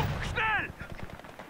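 A short burst of machine gun fire in Company of Heroes 2 rattles as a rapid string of sharp cracks, with game effects before it, moderately loud, then trails off quickly.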